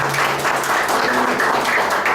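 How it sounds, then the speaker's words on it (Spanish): A church congregation applauds at a Sunday thanksgiving service, a steady wash of many hands clapping close and loud for about two seconds, with no speech over it. "un aplauso para Dios."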